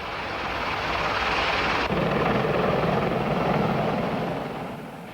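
A Sikorsky CH-53 Sea Stallion, a 1960s Marine Corps assault helicopter, roars continuously and loudly with a dense, steady rotor and turbine wash throughout.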